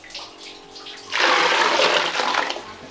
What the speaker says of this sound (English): So when you need to flush the toilet, you grab a pail of water.